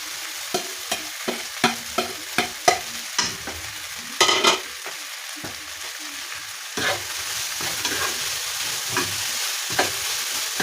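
Garlic sizzles in a pan with beef for a stew, with close, rhythmic scrapes and clicks of a utensil stirring over a steady frying crackle.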